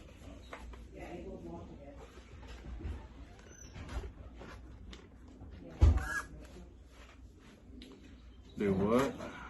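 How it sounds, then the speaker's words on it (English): Chickens in a backyard coop cluck and call intermittently, with one louder squawk and a burst of calls near the end, while people talk nearby. "They were all up in the coop, all the chickens."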